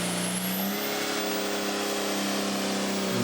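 A pulling tractor at a BTPA tractor-pulling event revs its engine hard, a loud, sustained, dense roar with a rising whine that holds steady throughout.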